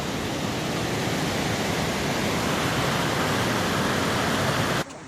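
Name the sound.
river waterfall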